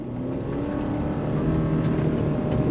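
A 2022 Subaru Forester Wilderness in off-road X-Mode on snow and dirt, its engine droning steadily and building as it accelerates on throttle, a continuous close rumble with road and drivetrain noise.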